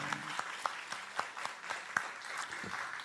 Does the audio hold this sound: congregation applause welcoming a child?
yes